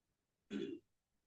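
A single short, soft throat clearing from someone with a sore throat, brief and alone against a quiet background during an online English class.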